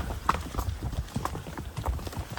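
Pack horses climbing a mountain trail on a summer trip clip-clop along at a steady walking rhythm, hoof strikes soft and fairly distant amid rustling and trail noise.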